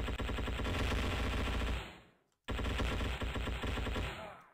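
Dense, rapid automatic gunfire from the video game Endless War 3 hammers loudly and nearly continuously, dropping away to a brief silence midway before another long burst resumes at full intensity.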